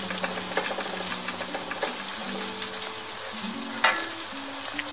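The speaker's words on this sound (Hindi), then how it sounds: "अब इसमें हम मिर्चें डाल देंगे, हरी मिर्चें।" Green chillies sizzling in hot oil for a shahi chicken curry, a dense continuous crackle with occasional stirring scrapes and a sharp spatter near the end, close and steady without talk.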